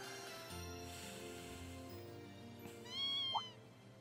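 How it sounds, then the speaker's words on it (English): A kitten meows once, a short high cry near the end, in the video game Trails of Cold Steel 2, heard over steady soft game music. "What's a kitten doing here?"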